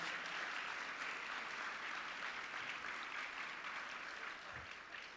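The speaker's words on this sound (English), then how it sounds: "have another round of applause for Dr. Deloach." Faint, steady applause from an audience at an engineering awards ceremony, continuous and distant, tapering slightly toward the end.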